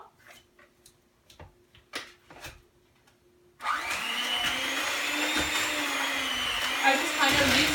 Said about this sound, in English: And I will take my hand mixer and mix this up.